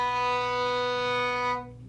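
A single sustained violin note, played with a low third finger, holds steady for about a second and a half and then stops.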